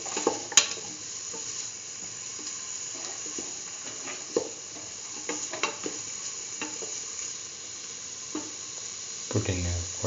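Chili powder sizzling and being stirred in a hot pan while cooking chayote green peas rice, a steady frying hiss broken by repeated scraping clicks of the spoon, with a louder clatter near the end.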